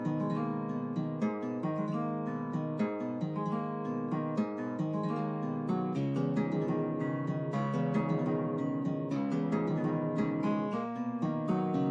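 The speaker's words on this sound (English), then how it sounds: "this picked acoustic guitar from Contact, and it's playing a melody that sounds like this" A picked acoustic guitar from the Contact library plays a busy, continuous melody over steady chords, with dense plucked notes at an even level throughout and no voices.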